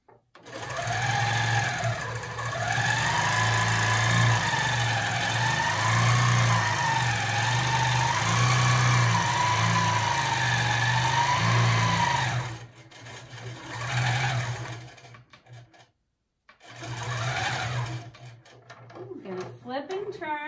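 A longarm quilting machine stitches fabric strips in rapid, steady runs, its motor whirring and needle chattering with a wavering pitch, stopping briefly before starting again, close and fairly loud.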